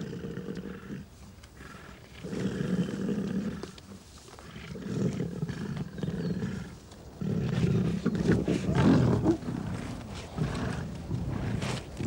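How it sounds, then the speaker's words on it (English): Male lions fight a lioness over a kill during a drought, with deep rumbling roars and snarls rising and falling in several loud bursts. The sound is close and raw, with no clear talk over it. "The male in possession fights a lioness off."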